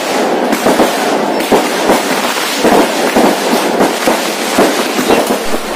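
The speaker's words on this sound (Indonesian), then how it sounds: "ini berarti disambut dengan kembang api" Fireworks burst continuously and loudly at a wedding ceremony, a dense crackling barrage of overlapping bangs with no pauses.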